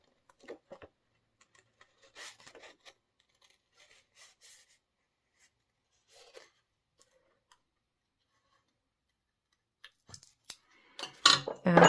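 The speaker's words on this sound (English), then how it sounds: "So cut out this tiny little flower here." Small scissors snip out a tiny paper flower in quiet, scattered bursts of faint cutting and paper rustle, building to a louder cluster of close snips and handling noise near the end.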